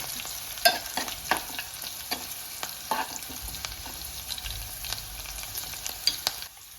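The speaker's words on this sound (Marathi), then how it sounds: "राईचा असा वास आला पाहिजे, असं मस्त कडकडीत फोडणी द्यायची." Mustard seeds crackling and popping in hot oil for a tempering, irregular sharp pops over a steady sizzle, close and moderately loud with no talking.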